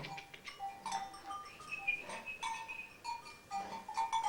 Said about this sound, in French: C'est difficile à garder un troupeau de chèvres.